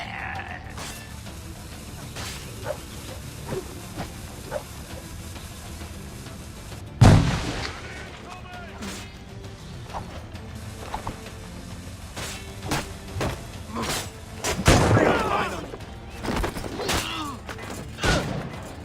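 Gunfire in the video game Assassin's Creed IV, scattered sharp shots with heavier bursts around the middle and later, over mechanical game sounds and creaks, with no talk.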